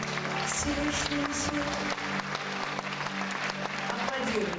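Steady applause from a concert crowd at a show, continuous clapping for several seconds with a voice and background music mixed over it.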